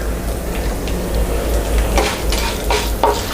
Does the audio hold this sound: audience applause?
no